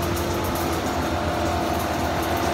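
A honey uncapping machine cuts wax off frames with a steady, loud, dense mechanical clatter and hum, unbroken and free of talk throughout.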